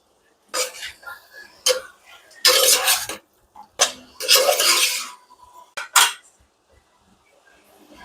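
Paneer tipped into a pan and stirred with a metal utensil: several sharp clanks and scraping bursts in short irregular clusters, close up, with quiet gaps between.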